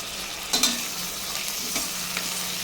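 Onion and tomatoes with rock salt sautéing in a pan, a soft steady sizzle with a few brief stirring scrapes near the start, no voices.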